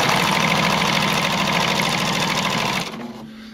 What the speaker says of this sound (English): usually you'd be stitching with a much longer stitch on thick fabric like this